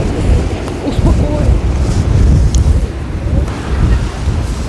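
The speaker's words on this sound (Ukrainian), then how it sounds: "Ні, не будемо спускатися, дуже сильний вітер" Strong wind on the Odesa seafront in February buffets the microphone with a loud, continuous low roar, gusting throughout.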